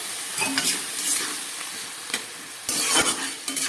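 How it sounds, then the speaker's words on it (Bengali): A small splash of water hits beans and potatoes frying in a pan, setting off a loud, close, continuous sizzle with bursts of stirring scrapes and no voices. "সামান্য একটু জল দিয়ে দিচ্ছি"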